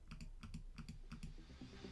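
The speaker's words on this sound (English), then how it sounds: "I will let you hear my mouse clicks." Rapid bursts of computer mouse clicking for Minecraft PVP, clustered in quick pairs and runs of clicks, close and crisp with no talking.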